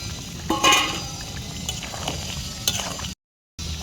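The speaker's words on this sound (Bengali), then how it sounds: "এখন মাছটা দিয়ে দেব।" Fish sizzles and fries in curry in a cooking pan, a steady loud crackle with a few clinks of a utensil against the pan and a brief cut to silence near the end.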